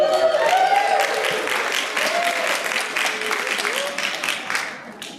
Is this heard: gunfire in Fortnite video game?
no